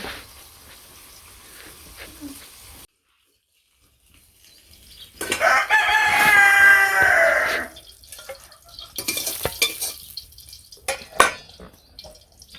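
Chickens cluck and squawk in a noisy flurry partway through, with dripping and scattered clatter before and after in a quiet space.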